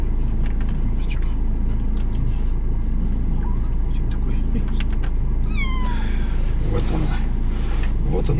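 A small ginger kitten meows in a few short rising cries near the end, close and clear, over a steady low mechanical hum while a person talks softly.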